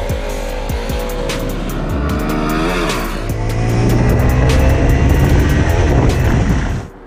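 A loud Zontes 310 motorcycle engine revving hard and shifting through gears on a race track, pitch climbing and dropping, close up, then suddenly cutting off.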